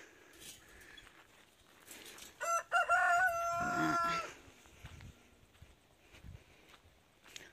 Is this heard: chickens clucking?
yes